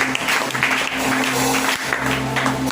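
A church congregation applauds the Lord in a sustained, dense wash of clapping that runs steadily throughout, with a low musical hum underneath.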